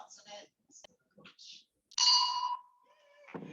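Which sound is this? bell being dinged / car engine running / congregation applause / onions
bell being dinged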